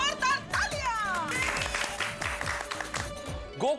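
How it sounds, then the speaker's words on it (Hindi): Clapping and cheering from a group during a Ganesh festival gathering among neighbors in a housing society, with voices and someone speaking over the applause. "दया भाभी के लिए जोरदार तालियां।"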